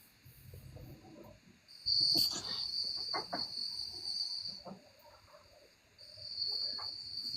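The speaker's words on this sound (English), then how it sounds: "I just hear crickets." A steady high-pitched insect chirring rises and fades, like crickets, with quiet rustles and soft background sounds around it.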